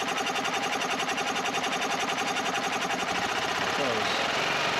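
A 2001 EZGO TXT gas golf cart engine, sluggish and popping, runs at a steady rapid idle with pulsing mechanical chatter, loud and close throughout.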